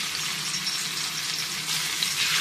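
Fish frying in hot oil on a dosa griddle, a dense, loud, continuous sizzle and crackle that fills the whole stretch without pause.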